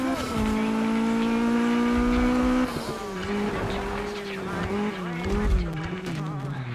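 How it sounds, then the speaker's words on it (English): In the Need For Speed video game, a car engine holds a steady high-revving tone against the rev limiter, then drops and wavers as the car skids, with tire squeal over the engine. "you can hear there just bouncing off the limiter in seconds"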